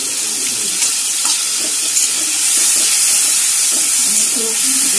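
Water poured into a simmering pot of vegetarian Bengali aloo soyabean curry with tomato and spices, a steady close splashing pour with a light bubbling sizzle, no speech.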